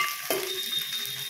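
Onion and curry leaves roast in a pan with a steady bright sizzle, and a brief utensil scrape early on, no talking.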